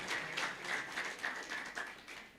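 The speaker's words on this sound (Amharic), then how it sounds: "ለራሳችሁ አጨብጭቡ እህቶች።" Audience applause at a gospel church service, a steady wash of faint clapping with no voice over it.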